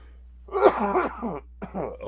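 A single harsh cough, close and loud, followed by a short gravelly throat-clearing burst.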